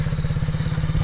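A small MRF 80cc motorcycle engine runs with a rapid, throbbing low putter, close and steady through a brief moment, with no talking.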